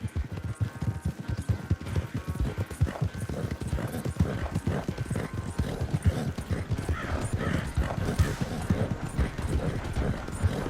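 Horse hooves clip-clop steadily in the Western video game Red Dead Redemption 2, a close, even trotting rhythm that carries on alone without talk.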